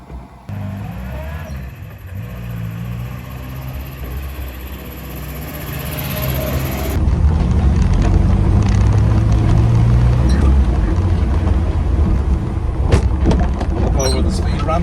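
A 1967 Morris Minor Traveller rolls slowly over speed ramps, its engine a steady low drone that swells louder partway through, with bumps and knocks from the suspension as it crosses.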